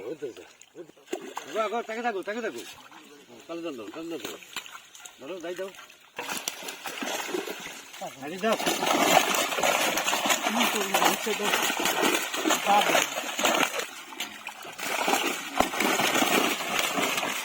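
Fish are shaken out of a trap set in a village pond, making a long stretch of loud, rough sloshing and splashing close by. People talk before it starts.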